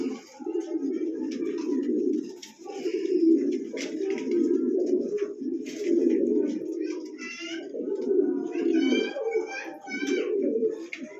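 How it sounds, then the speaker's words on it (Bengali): Domestic pigeons of local and foreign breeds kept for wholesale sale in Bangladesh coo steadily and close by, with overlapping throaty rolls and a few higher chirps throughout, and no talking. "স্ক্রিনে আরও একজন কবুতর আছে"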